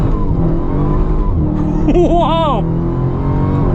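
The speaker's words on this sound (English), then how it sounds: "I'm going to like ease into the throttle." A 2022 Dodge Challenger SRT Super Stock accelerates on the road, a steady close engine drone swelling into a brief rising howl of revs midway, with a short excited exclamation over it.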